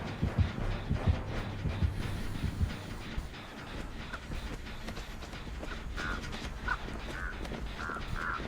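Several crow caws ring out from a horror game set around a killer's shack and lockers, coming in a spaced run of calls over a low rumbling ambient drone with no talking.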